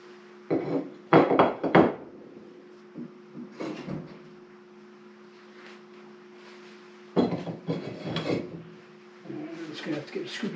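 Firebrick is lifted out of the firebox of a 1910 Glenwood 207 F antique cookstove, with clunks and scraping of brick against cast iron in short clusters over a steady low hum, and a person speaks between the knocks.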